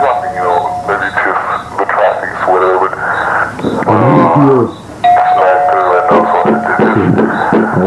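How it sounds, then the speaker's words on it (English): Doorbell rung repeatedly in a tense horror animation scene, a chiming tone recurring under agitated voices and a radio-like muffled backdrop, fairly loud and continuous. "taps the doorbell over and over"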